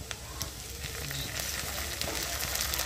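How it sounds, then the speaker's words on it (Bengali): Ginger-garlic paste and green chilies sizzling in oil in a pan, a steady close frying hiss with light stirring clatter throughout, while making aloo paratha. "এটা একটু ভেজে নেওয়া হবে।"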